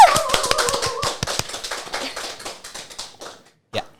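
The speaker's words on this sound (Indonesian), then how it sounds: "Boleh tepuk tangan buat Dinar Candy." A small studio crowd claps for guest Dinar Candy on a casual talk show, quick scattered claps that thin out and fade to silence, ending with one last isolated sound.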